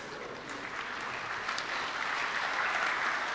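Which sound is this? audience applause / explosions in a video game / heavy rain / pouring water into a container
audience applause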